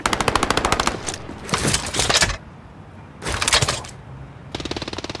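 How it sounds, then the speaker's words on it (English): A sentry gun in Call of Duty: Modern Warfare fires loud rapid automatic bursts, several separate volleys with short pauses between them, close and dominant. "sentry gun on station."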